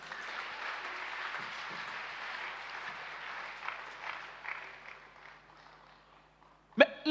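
Church congregation applauding during worship: steady, fairly faint clapping from a crowd that thins and fades over several seconds before a short loud sound at the end.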